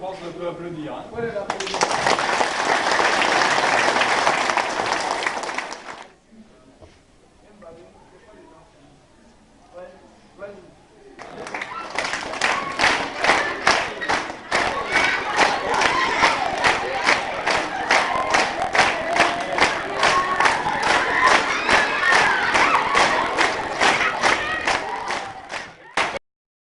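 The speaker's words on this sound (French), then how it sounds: "toute la classe, je pense, peut applaudir" A school class in Burkina Faso breaks into a loud burst of cheering and shouting, falls quiet amid scattered voices, then claps in a fast, steady rhythm for over ten seconds while children shout along.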